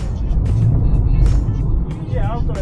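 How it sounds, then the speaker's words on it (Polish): A car drives by on a road, a loud rumbling engine and tyre noise passing close by while someone talks over it. "Zobaczcie. Idzie auto."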